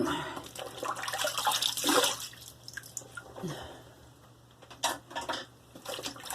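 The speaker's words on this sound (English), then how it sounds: "let's rinse this off and evaluate" Water splashes and drips as a face is rinsed off after a shave with Royal Shave Soap by Stirling & Fromm and a guardless hair shaper, in bursts of splashing near the start and again toward the end.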